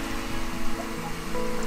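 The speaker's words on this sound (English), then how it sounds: "I can hear the water dropping from the output." Water from a pressurised pump's output pours and splashes steadily, a close, continuous rushing wash with no voices.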